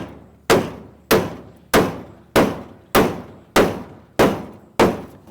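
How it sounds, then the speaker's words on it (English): A hammer drives an angled nail into a slightly twisted board during barn roof framing, eight sharp evenly spaced blows, close and loud, each one ringing briefly. "if you put your nail in at an angle and then hit your nail, it draws it down"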